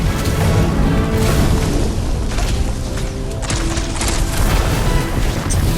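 Continuous heavy enemy fire and explosions during a boss fight in the Guardians of the Galaxy video game, a loud, dense barrage of booms and blasts with no break for nearly six seconds.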